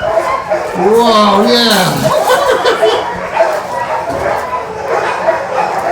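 Several beagle puppies bark and yip close by, with a long rising-and-falling whining bark early on, then scattered short yips and whimpers while someone talks and exclaims over them.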